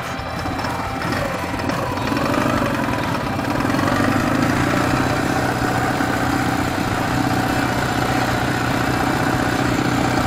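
A motorcycle engine idles steadily throughout, a continuous close mid-low rumble with constant vibration and no speech, on a ride into the mountains in the Urals.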